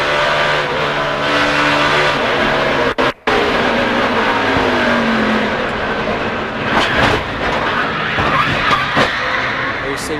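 NASCAR stock cars at the 2004 MBNA America 400 at Dover roar steadily and loudly through the whole stretch, engines droning together with a brief dropout near the start, while a commentator talks over the racket.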